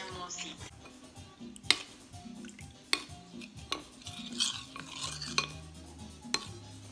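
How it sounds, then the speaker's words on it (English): A spoon stirs cornstarch and milk in a bowl, with a steady swishing broken by several sharp taps against the rim, and faint background voices underneath. "And then you stir it up"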